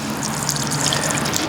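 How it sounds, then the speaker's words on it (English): Water running steadily into a bucket while preparing a wash for cleaning a motorhome, a close, constant splashing gush with no talk. "and then we'll add the water, get the water going in."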